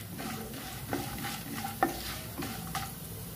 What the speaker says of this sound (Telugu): గోల్డెన్ కలర్ వచ్చే వరకు ఫ్రై చేసుకుందాం.